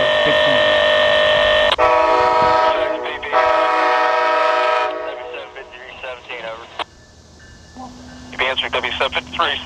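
A CN freight train passes close by, a loud, sustained horn blast and harmonic rail tones filling the first five seconds, then fading into rumble with later squeals and tonal bursts.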